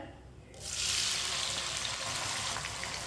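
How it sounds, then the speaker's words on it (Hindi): Two finely chopped tomatoes drop into a hot pan for tinda sabzi and burst into a loud, steady sizzle after a quiet half second, frying on evenly to the end. "टमाटर को भी 2 मिनट के लिए पका लेंगे।"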